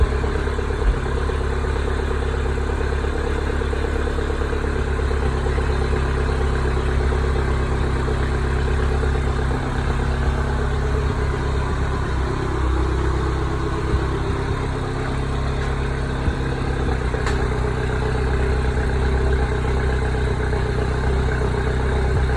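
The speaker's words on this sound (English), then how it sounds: "Now the engine's dead cold, so we're going to start her up and see if there's any smoke coming out the back." A MINI Cooper S engine, started from dead cold, idles steadily at close range with a constant low drone and no voices.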